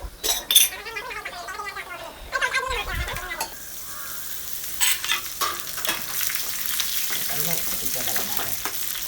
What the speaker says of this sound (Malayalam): പിന്നെ കറിവേപ്പില ഇട്ട് കൊടുക്കുക.